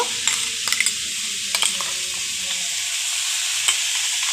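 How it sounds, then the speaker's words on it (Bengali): Ginger garlic paste stirred into onions fried without oil, with a constant hiss of sizzling and a few sharp scrapes and taps of a spoon against the pan, close by. "আদা রসুনের পেস্টটা দেওয়ার পর একটুখানি নাড়িয়ে নিতে হবে"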